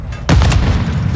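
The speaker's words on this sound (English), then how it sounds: "Throwing flash grenade!" A flash grenade goes off in Call of Duty MW2 during a 10v10 Domination match at Santa Sena border crossing: one sudden loud boom with a short ringing tail.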